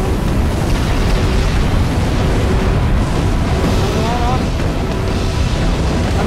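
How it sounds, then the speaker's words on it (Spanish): An explosion in the video game Halo 3 produces a loud, sustained, rumbling roar with a broad crackling wash that continues for several seconds with no clear break. "No vamos a perder la explosión tampoco."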